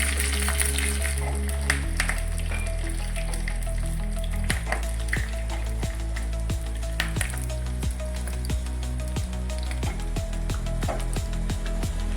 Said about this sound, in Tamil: நம்ம எடுத்து வச்சுருந்த பட்டை கிராம்பு ஏலக்காய் எல்லாத்தையும் போட்டு தாளிக்கணும்.